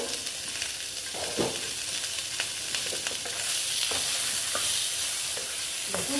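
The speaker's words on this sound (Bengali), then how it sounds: "ঢাকা দিয়ে দিয়ে আমি ভেজে নিচ্ছি" Pointed gourd (potol) fries in oil in a covered pan over turned-down heat, a soft continuous sizzle broken by a few scraping stirs, growing slightly louder and hissier toward the end, with no voices.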